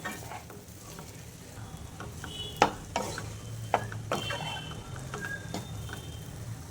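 Egg fried rice with lemon juice and coriander being stirred in a hot pan, a quiet continuous sizzle with scraping strokes and a few sharp clanks of the spoon on metal.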